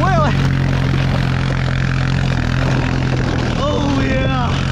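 A Honda ATC quad's engine revving loudly out on ice, a steady close droning roar with pitch sweeps as the throttle rises and falls, people shouting over it.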